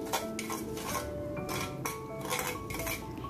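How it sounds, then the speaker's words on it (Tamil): A metal utensil stirs vegetarian Kam Heong sauce with vegetarian dried prawns in a pan, making close, repeated scraping and clattering against the metal at a fairly quiet, steady level. "இதை சேர்த்து நல்லா மிக்ஸ் பண்ணி விடுங்க."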